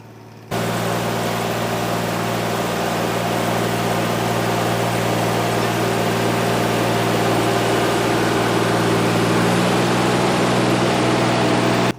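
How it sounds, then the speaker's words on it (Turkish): A Massey Ferguson 135 tractor with a 44-horsepower diesel engine pulls a cultivator through a field, its loud steady drone starting abruptly and holding constant for the whole stretch, with no voices over it. "altımdaki traktör Massey Ferguson 135'lik. Yani 44 beygire sahip bir traktör."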